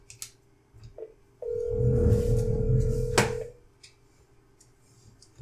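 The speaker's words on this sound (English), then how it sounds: "So we'll just dial the other phone there." A telephone dialing another phone while configuring SonicWall High Availability: a few soft clicks, then a sustained steady tone with a buzzing undertone, a sharp click near the end, and faint ticks as it fades.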